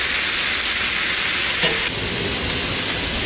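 Sausage frying in a pan for squirrel gravy, a loud, dense, continuous sizzle heard up close, with a brief stir midway and the crackle easing slightly afterward.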